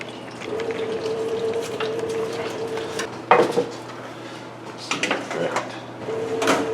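Metal clatter and a clunk as chicken parm sandwiches go into a kitchen oven, a sharp bang followed by rattling, under a steady hum with someone talking.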